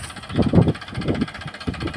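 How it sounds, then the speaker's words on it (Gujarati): Farmtrac 42 Champion tractor engine running in a sorghum field, a brief close chugging rumble with uneven throbbing pulses. "ટ્રેક્ટર છે મિત્રો ફાર્મર ટ્રેક 42"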